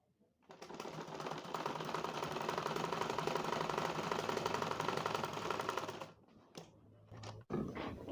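Sewing machine stitching the seams of a round winter hat, running steadily and loudly for about five seconds, then stopping with a few brief handling clicks and short bursts afterward.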